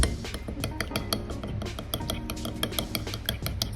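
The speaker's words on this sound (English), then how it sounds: "So you're gonna mix until everything combines nicely." Avocado and egg salad being mixed in a bowl, with a rapid run of clinks and scrapes of a utensil against the dish, close and fairly quiet, with no talk.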